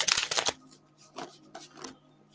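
A deck of oracle cards riffles sharply in a dense opening burst, then a few lighter shuffling rustles follow at intervals, close and clear, with no voices.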